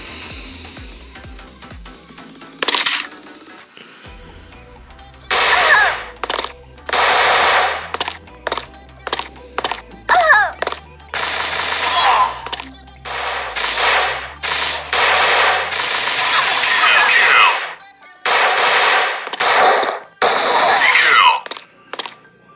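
Gunfire in the shooter game Truy Kích: loud bursts of automatic fire and single shots in irregular clusters over a low droning background, near and dominant throughout.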